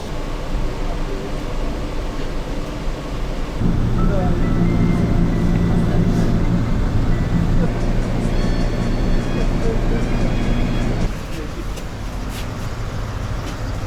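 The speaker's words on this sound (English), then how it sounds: "So I decided to take the bus instead." Interior of a city bus riding into central Kazan in winter, a steady low engine rumble and road noise that swells into a louder, deeper drone midway before settling, with faint rattles and voices in the background.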